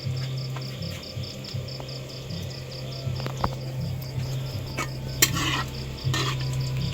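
Kikiam is toasted and stirred in a wok, giving a faint sizzle with intermittent scraping and clinks of utensil on metal, set against a steady hum and chirping insects.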